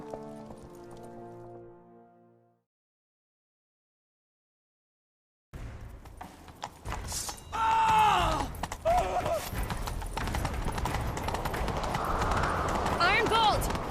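Galloping horse hooves in The Witcher 3, a rapid clip-clop that starts loud after a brief silence and runs steadily under game music and other in-game sounds, with a possible whinny.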